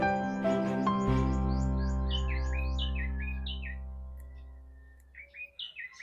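A tiny bird about the size of a hummingbird gives a series of high, rapid chirping calls over a steady low hum, growing more broken and scattered toward the end.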